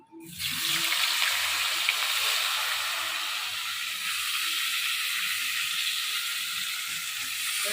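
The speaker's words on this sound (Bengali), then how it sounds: "আমি বেগুন গুলো হালকা ভাজে নেবো, মাছ ভাজা তেলেই বেগুন ভাজে নেবো" Eggplant slices frying in leftover fish-frying oil in a home kitchen, a steady loud sizzle and hiss that starts abruptly and holds evenly throughout, close up.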